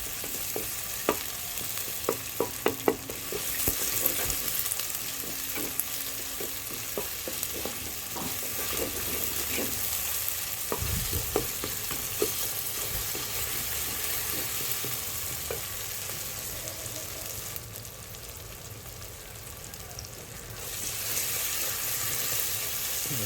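Tomato is mashed and sautéed in a pan for a Hyderabadi-style chicken fry, with a quiet steady sizzle and repeated spoon scrapes and taps against the pan, busiest early on, with no talking.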